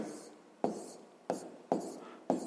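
Pen strokes writing a math solution on paper, a repeated scratchy scrawl with four sharp stroke onsets at a steady pace, close and fairly quiet, with no voice.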